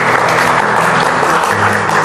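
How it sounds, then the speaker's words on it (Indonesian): Wedding guests at a church ceremony break into sustained, dense applause, loud and close, a steady wash of clapping with no pauses. "Mari kita berikan aplaus."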